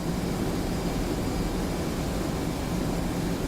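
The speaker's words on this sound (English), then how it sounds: "I got the air brake out and the afterburner on just because we're a little bit too heavy right now" An F/A-18C jet flies with its air brake extended and afterburner lit in the DCS flight simulator game. A steady, unbroken roar holds at the same loudness throughout, with no other sounds.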